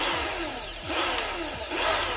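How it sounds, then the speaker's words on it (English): A handheld power drill bores a hole in wood, its motor whining loudly and steadily up close with no voices, the pitch sagging and then recovering a few times as the bit bites into the material. "So let's drill the hole."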